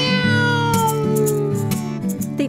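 A cat gives a long, drawn-out meow that slowly falls in pitch, clear and close, with soft tapping sounds in the background.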